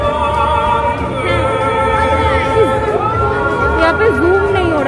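Crowd chatter outside a Ranaghat church on Christmas, a dense continuous babble of many voices with a speaker talking close over it.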